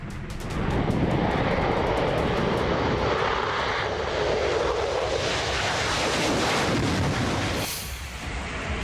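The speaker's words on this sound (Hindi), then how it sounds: "F-16 लड़ाकू विमान ने उड़ान भरी।" Loud, sustained jet engine roar from an F-16 fighter jet taking off, a dense rushing thrust noise that swells slightly and fades toward the end, with no speech.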